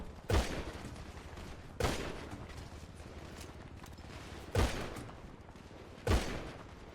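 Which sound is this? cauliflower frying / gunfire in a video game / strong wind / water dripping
gunfire in a video game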